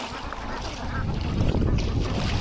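Ducks paddling and calling softly on water on a hot, sunny day, with low broadband splashing and wind noise throughout, no voices.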